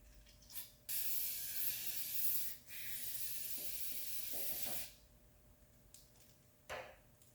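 Brake cleaner sprayed into a Porsche 911 engine part during a teardown: several loud, hissing aerosol bursts, one long spray of about two seconds plus shorter squirts, with quiet gaps and no talk.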